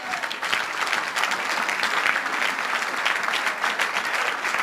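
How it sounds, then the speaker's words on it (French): A church congregation applauds Jesus of Nazareth during an evening vigil service, steady loud clapping from a large crowd filling the whole stretch without pause. "On acclame Jésus de Nazareth."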